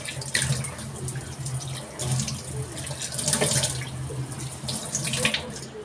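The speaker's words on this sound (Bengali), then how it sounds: "তো চলো এবার আমি ধুয়ে নিচ্ছি।" Face washed under a running tap, a steady stream of water splashing into a sink with uneven surges as hands scoop and rinse, close and continuous.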